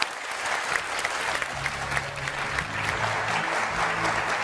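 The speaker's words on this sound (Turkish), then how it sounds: "Cem Bey bir alkış." A studio audience bursts into steady, dense applause that holds for several seconds, loud and close, with no talk over it.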